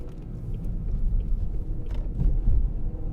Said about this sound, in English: massive pothole there